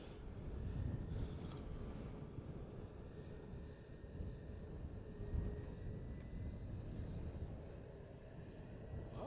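A fixed-wing airliner takes off at night from runway 36L at Amsterdam Schiphol Airport, a broad, steady engine roar rumbling low from a distance with slight swells, and no talk over it.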